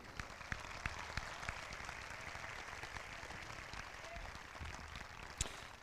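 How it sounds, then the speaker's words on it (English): Audience applause at the Anoka High School 2023 graduation ceremony, a steady, fairly faint wash of many hands clapping from a distance, with a few sharper claps standing out and no speech over it. "Another round of applause for Enzo."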